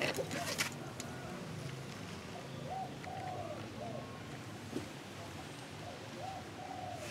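A spotted dove from Phú Yên gives a few soft, low coos in short phrases, spaced by pauses and set against a busy, noisy outdoor background.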